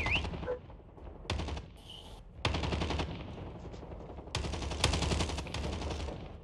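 Bursts of gunfire in the video game Prop Hunt, several loud volleys of rapid shots separated by brief pauses, close and dense, with no talk over them.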